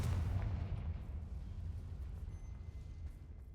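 A Confringo fire spell bursts in Hogwarts Legacy, a loud, booming blast with a heavy low rumble that decays slowly over a few seconds, standing alone with no talk.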